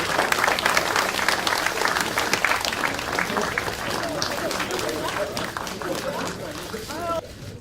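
An audience at a 2018 Liberty Korea Party lawmakers' workshop applauds to welcome party members, with dense, loud, sustained clapping that carries on throughout before fading near the end.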